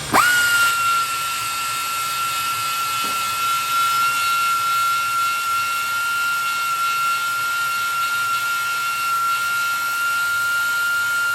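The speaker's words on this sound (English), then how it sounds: "The idea being that you're grinding the weld down so that you can put your next piece over top of it without obstruction" An angle grinder grinds down a weld with a loud, steady high-pitched whine that spins up sharply at the start and holds for over ten seconds over a hissing, gritty wash of noise.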